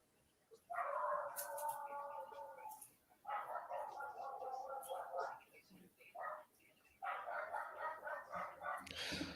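An excited dog gives three long, loud, whining howl-like calls with short pauses between them, recorded close by at home; faint voices can be heard in the background.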